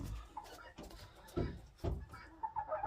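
Faverolles chickens cluck softly in a henhouse at feeding time, scattered short clucks and murmurs close by and quiet.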